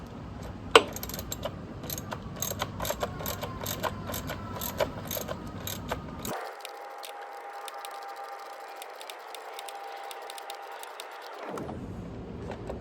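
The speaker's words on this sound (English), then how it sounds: "we'll put the wrench on the one side to hold the nut, while on this side we tighten it up." Wrench tightening a nut while fitting a Kit B Totally Rad Battery Lock, giving repeated ratcheting clicks and metal clatter, followed by a steadier mechanical whir in the middle stretch, all close and fairly quiet.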